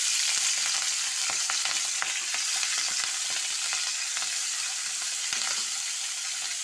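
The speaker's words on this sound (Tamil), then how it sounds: "இப்போ பிரண்டையை மட்டும் தனியாக வதக்கணும்" Pirandai (veld grape) stems sauté in hot oil in a Tamil kitchen, giving a steady bright sizzle with soft scraping stirs throughout.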